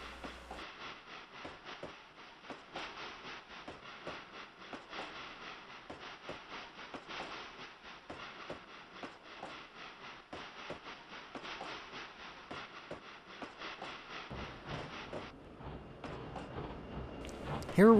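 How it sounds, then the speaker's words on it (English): D&RGW narrow gauge train in the game Trainz 2009, crossing Hangman's Trestle west of Antonito, Colorado. A continuous quiet rolling rumble carries steady rhythmic wheel clicks throughout, then ends with a brief louder sound. "Here we find another westbound train about 5 miles west of Antonito, Colorado, crossing Hangman's Trestle."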